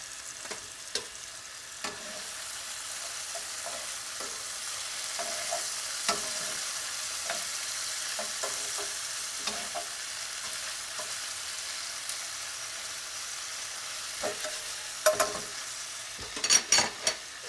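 About six to eight tablespoons of butter melt in a pan while it is browned for parmesan linguine. A continuous close sizzle runs throughout, with small scraping and stirring taps and a few louder clinks near the end.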